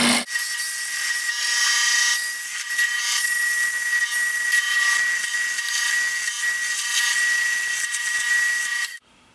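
An oak blank spins on a wood lathe while a tool cuts away flat spots to bring it round, giving a steady, continuous high-pitched scraping whine that runs unbroken for the whole stretch and stops abruptly at the end.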